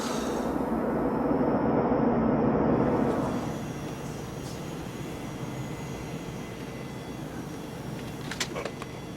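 Inside an airplane cabin during a flight in a film scene, a loud rushing drone fills the first three seconds, then settles into a quieter, steady engine hum with a few faint clicks near the end.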